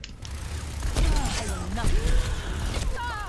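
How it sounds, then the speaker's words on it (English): Bastion fires at the player in Overwatch, a rapid mechanical rattle of gunfire beneath a voice talking throughout, with game sound effects layered around it. "There's a Bastion shooting at us"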